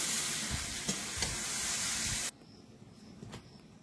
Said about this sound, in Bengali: ঢেঁড়সটা ভেজে নিয়েছি, বেশ অনেকটা কিন্তু সময় এর মধ্যে গেছে